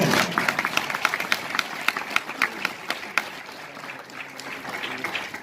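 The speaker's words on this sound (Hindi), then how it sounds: "मार सकते हो ताली, कोई बात नहीं।" Audience clapping at a business opportunity seminar, a loose, uneven patter of individual claps with distinct sharp hits, starting fuller then thinning out and picking up again, close and fairly lively.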